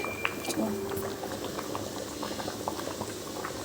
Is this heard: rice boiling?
yes